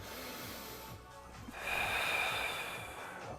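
Audible breaths during an exercise session, a steady exhale then a stronger hissing breath that swells midway, close to the microphone, with no talking over it.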